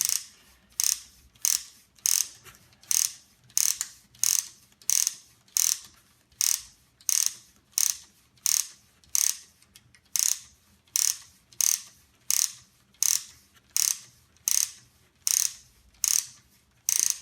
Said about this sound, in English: you can hear a little clicking noise. That's perfectly fine. That's what it's supposed to do, and that's the way you wind it up